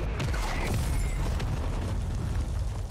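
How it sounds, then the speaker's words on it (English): Mortar fire in Call of Duty: Warzone, a dense, continuous low rumble of explosions and booms that fills the whole moment with no let-up. "Waiting till this fucking mortar stops."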